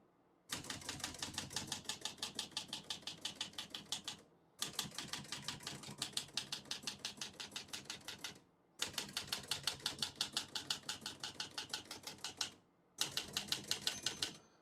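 A 1970 Olivetti Lettera 32 portable manual typewriter being typed on, rapid, even clacking keystrokes in four bursts of several seconds each, separated by brief pauses, crisp and close.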